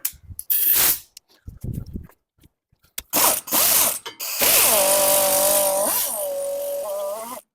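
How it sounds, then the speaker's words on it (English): Air ratchet spinning off 12 mm brake caliper bolts on a Honda Pilot, heard as short loud bursts of rattling whir followed by a longer sustained buzzing run, with pauses and clunks between. "let's get our air ratchet here"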